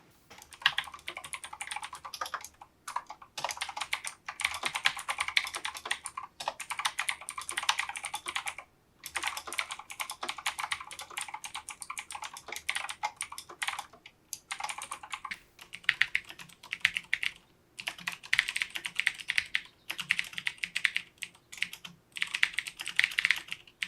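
Rapid typing on an EagleTec KG011 mechanical keyboard, a dense stream of clicky keystrokes with a hollow ring on bottoming out, brief pauses, close and crisp throughout.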